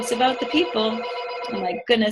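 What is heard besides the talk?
phone ringing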